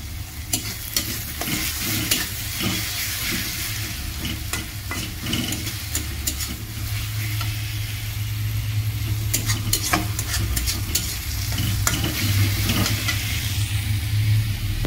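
Mixed vegetables sizzle steadily while being fried and stirred in a pan, with a constant close frying hiss and repeated scraping stir strokes throughout, no talking.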